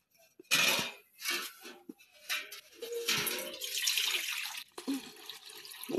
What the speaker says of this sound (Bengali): আমরা একটু জল দিয়ে দিলাম।